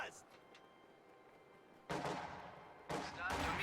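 Squad rifle fire in the war game Reign: after a quiet stretch, two sudden loud bursts of gunfire crackle out a second apart, the second sustaining to the end.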